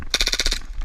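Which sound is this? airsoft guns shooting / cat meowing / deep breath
airsoft guns shooting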